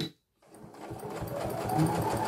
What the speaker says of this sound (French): je débute ma couture, point avant, point arrière, et je continue la couture.